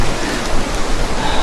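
Rain falls steadily during a trek on Mt. Kitanglad, a loud, dense, unbroken hiss close to the microphone with no voices.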